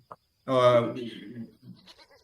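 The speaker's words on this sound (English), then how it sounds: "they are taking out their goats to the field" Goats bleat close by in a Tanzanian village, one long harmonic-rich call followed by a few shorter, weaker bleats over roughly two seconds.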